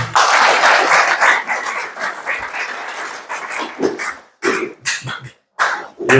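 A loud, dense burst of applause and cheering from a crowd at a labor union officers' training retreat, sustained for several seconds and then breaking into short bursts with gaps.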